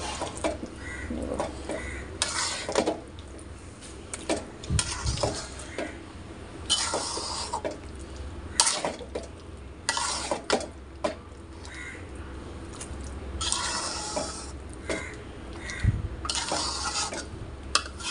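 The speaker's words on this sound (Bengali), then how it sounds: "ভালোভাবে এটা চারিদিকভাবে নেড়ে চেড়ে নেব।" Mango pickle is stirred in a pot, giving intermittent metallic scrapes and clinks of a spoon against the pot, irregular and fairly close, over a soft background hum.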